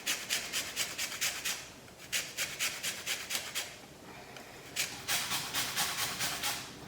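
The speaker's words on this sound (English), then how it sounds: "to get the skin off, I'm literally just grating it against the grater" Fresh lime being grated against a kitchen grater for a red Thai curry: quick, rhythmic rasping strokes in two bursts separated by a short pause, close and fairly quiet, with no talking.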